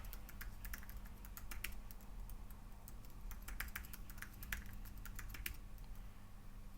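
Steady, fairly quiet typing on a computer keyboard as a password is entered on a FreeBSD desktop running on a 10th-gen Intel i3 NUC, with rapid irregular key clicks continuing throughout over faint background hum.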